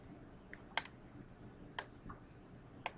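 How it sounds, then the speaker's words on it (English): Faint single clicks of a computer keyboard key, the tab key pressed three separate times a second apart in a quiet room. "So on your keyboard, hit tab one time."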